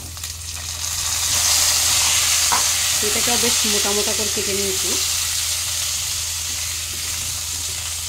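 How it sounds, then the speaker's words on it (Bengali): Potato pieces that have fried golden brown sizzle steadily in hot oil in a pan as thick-cut papaya pieces are added, a loud continuous frying hiss with someone speaking over it. "আলুটা একটু সুন্দর গোল্ডেন ব্রাউন করে ভাজা হয়ে গেছে।"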